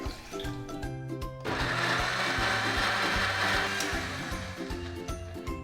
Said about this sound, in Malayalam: ഇനി നമ്മൾ ഇതൊരു മിക്സിയുടെ ജാറിലേക്ക് ഇട്ട് കുറച്ച് വെള്ളവും കൂടെ ചേർത്തിട്ട് ഒന്ന് അടിച്ചെടുക്കാം